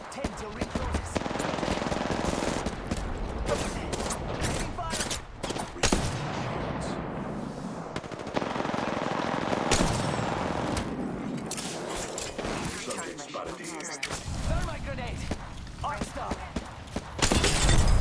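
Rapid video game gunfire bursts repeatedly over a continuous busy mix of game audio, with loud clustered shots and a near, full-band texture throughout.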